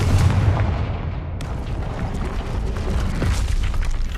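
A Confringo blast spell explodes in the Hogwarts Legacy video game. A heavy boom opens the sound, followed by several seconds of rumbling, crackling debris and echoing blast noise.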